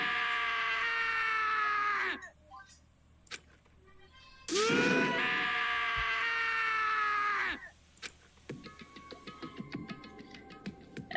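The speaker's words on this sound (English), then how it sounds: "As Taka's sad screams invaded our skulls" Screams from a character being executed in the Danganronpa video game: two long, loud anguished wails separated by a short pause, then fading into ticking mechanical noises.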